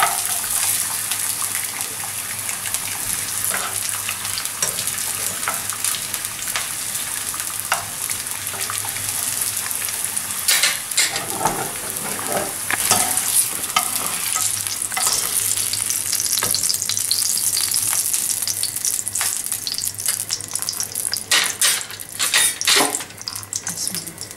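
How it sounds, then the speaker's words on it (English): Thin courgette slices frying in a pan, a steady close sizzle with occasional stirring and scraping throughout, no talking heard. "So the courgette are very thin and that's why I need just 1 minute to fry."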